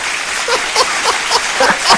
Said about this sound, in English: Let them finish clapping for you.